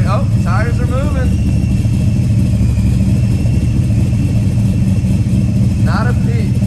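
A supercharged Foxbody Mustang on a test drive fills the cabin with a constant engine drone and road roar, while brief whining chirps rise over it a few times.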